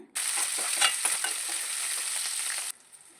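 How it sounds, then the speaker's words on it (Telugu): Slit green chillies fry in hot oil with tempering seeds, a loud, steady, close sizzle with crackles and stirring that cuts off abruptly near the end. "పచ్చిమిర్చి లైట్గా ఫ్రై అయిన తర్వాత కరివేపాకు వేసుకొని ఒకసారి బాగా కలుపుకోవాలి"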